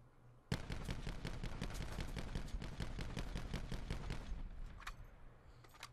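Rapid bursts from the Auger DMR rifle in Call of Duty: Black Ops 4, a fast even string of loud sharp shots lasting several seconds, then a brief pause and a few final isolated cracks.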